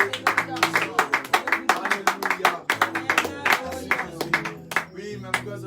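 Church congregation clapping and cheering to acclaim Jesus Christ, a steady run of sharp handclaps with voices mixed in, loud and close, continuing for several seconds.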